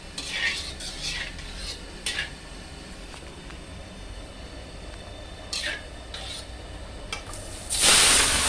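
Chinese kale being stir-fried in hot oil in a pan: scattered metallic clanks of a spatula against the pan, a low background hiss, then a sudden loud sizzling burst at the end.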